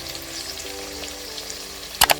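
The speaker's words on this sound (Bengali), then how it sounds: "এবার একই তেলের মধ্যে কেটে রাখা আলুগুলো দিয়ে দেব ভেজে নেওয়ার জন্য" Cut potatoes fry in the same oil used for pointed gourd, giving a soft, steady sizzle throughout, with two sharp clatters near the end.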